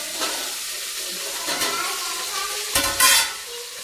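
Curry leaves frying in hot oil for a Telangana-style bagara tempering in a village kitchen, giving a steady close sizzle with stirring scrapes and a louder crackling burst near the end.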